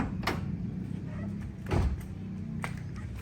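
A 2011 Toyota Avanza G's rear door opens with a couple of short latch clicks and a firm thunk partway through, against a steady low background hum.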